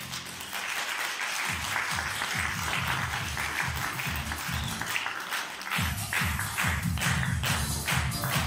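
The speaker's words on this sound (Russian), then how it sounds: "Благодарим вас за ваши аплодисменты" A concert audience applauding, dense sustained clapping that swells into a rhythmic unison beat, with scattered voices mixed in.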